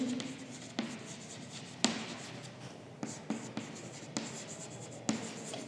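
Chalk or a marker writes on a classroom board in a steady series of sharp taps and scratchy strokes, close and fairly quiet, with no speech over it.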